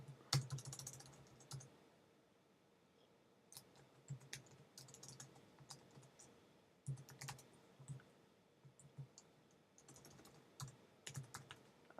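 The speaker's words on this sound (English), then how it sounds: "the XML file, which is this that I'm typing in a minute." Typing on a computer keyboard at a desk while writing XML code, quiet irregular bursts of key clicks separated by short pauses, close and alone.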